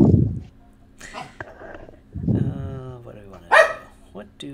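A pet dog barks and yips a few times in short bursts near the microphone, interleaved with a person talking during a tabletop game session.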